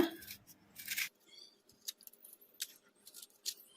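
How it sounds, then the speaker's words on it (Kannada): Raw mango for grated mango pickle is peeled with a peeler in short scraping strokes, crisp and close, with brief pauses between passes. "ಈಗ ಮಾವಿನಕಾಯಿಗೆ ಸಿಪ್ಪೆ ತಕ್ಕೊಂಬಿಡೋಣ ಈ ಥರ ಸಿಪ್ಪೆ ತೆಗೆಯೋದು ಇರ್ತೈತಲ್ಲ ಇದರಿಂದ ತಕ್ಕೊಂಬಿಡೋಣ"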